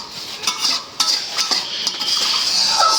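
Potatoes frying in a pan are stirred with a metal utensil, giving scraping clinks and taps at irregular intervals over a soft, steady sizzle that grows slightly louder toward the end.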